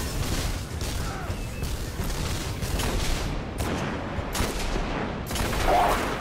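Enemy gunfire in the video game Destiny, a steady stream of shots and bursts rattling on throughout the clip, moderately loud and continuous, with no clear pauses.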